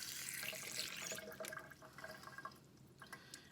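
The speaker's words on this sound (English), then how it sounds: "you just fill your jar with water" Tap water runs steadily into a canning jar in a home kitchen while canning whole tomatoes, a continuous faint splashing stream with slight gurgles, alone with no talk.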